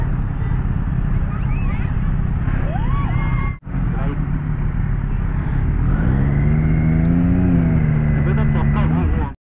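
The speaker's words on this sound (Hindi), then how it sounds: "देख लो, गुवाहाटी का ट्रैफिक" Busy city road traffic in Guwahati rumbles around a motorcycle rider, steady engine drone and wind buffeting with a horn-like tone near the end, loud and close while a person talks.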